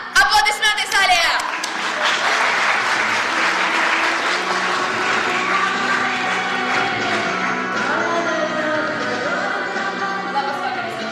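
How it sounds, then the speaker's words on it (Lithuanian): An audience in a theatre hall claps in a brief burst at the opening, then the applause continues under loud, steady stage music for the rest of the clip. "Aplodismentai salėje!"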